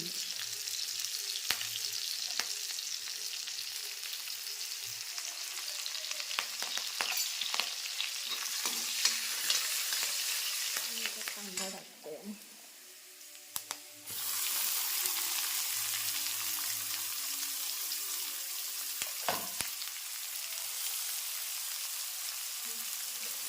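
Onion frying in a pan with ginger-garlic paste and green chilli, a steady loud sizzle with stirring scrapes that dips briefly midway, then resumes; no talking.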